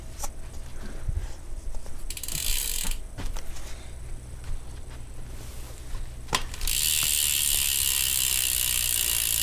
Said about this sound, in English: Not very loud, but it's a G-Sport hub.